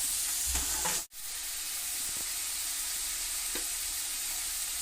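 Onions frying in a pan for a mutton dish, a steady close sizzle and hiss with a brief clatter and a short pause as the lid or spoon moves, no talking.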